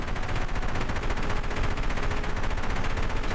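A helicopter autocannon in a video game fires one steady, loud, rapid stream of shots that runs unbroken from start to finish, with no talk over it.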